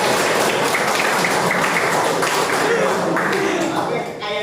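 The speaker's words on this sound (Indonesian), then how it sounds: "Tepuk tangan buat kita semua." A high school class applauding together in the classroom, a dense, steady wash of many hands clapping up close that tapers near the end, where a voice starts to speak.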